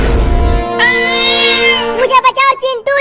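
A cartoon cat gives a drawn-out, high meow followed by several short, choppy cat cries, loud and close, over a cartoon soundtrack.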